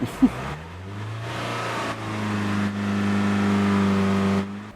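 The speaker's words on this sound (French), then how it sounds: "Quand elle accélère, bon, en neutre, elle monte pas énormément, mais bon, elle va quand même un peu bouger." A Mercedes C63 AMG engine revs in neutral, a strong harmonic drone that rises and holds steady for several seconds before dropping away, close and loud with no talking.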